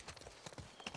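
Faint clip-clop of hooves in The Last of Us Part 2, quick irregular thuds of a horse moving at a walk, quiet and somewhat distant.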